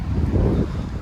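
Wind buffeting a microphone outdoors beside a koi pond, a loud, continuous low rumble that swells briefly in the middle and carries no speech.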